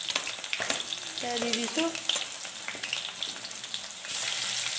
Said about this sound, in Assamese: এই পিঁয়াজখিনি একদম ব্ৰাউন কালাৰ অহালৈকে ফ্ৰাই কৰি লৈছোঁ।